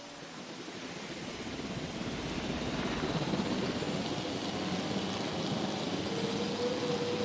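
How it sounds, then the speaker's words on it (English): Helicopter in the video game Jurassic World Evolution flying as a steady broadband rotor wash and engine roar that swells slightly and holds without pause, no voices. "I'm gonna manually fly the helicopter over here"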